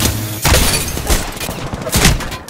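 Dense, rapid gunfire from the video game Apex Legends, loud bursts and overlapping shots with heavy low thuds that run almost without pause for the whole stretch.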